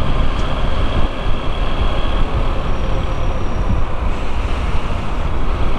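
Heavy, constant wind roar buffets the microphone on a motorcycle ridden at speed during busy delivery traffic, a loud rushing blast running steadily throughout with no talk.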